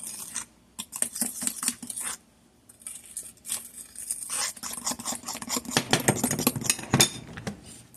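Vanilla and frozen custard ingredients being mixed by hand in a bowl, with scraping and clinking stir strokes coming in uneven bursts and short pauses, close and fairly loud.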